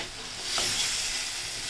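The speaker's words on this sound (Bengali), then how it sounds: "আজকে এইভাবে কষিয়ে কষিয়ে রান্না করব।" Chicken and spices stirred and fried in a pan, cooked down slowly in Bangladeshi style; a steady close sizzle with scraping stir sounds that swells slightly midway and holds, with no voices.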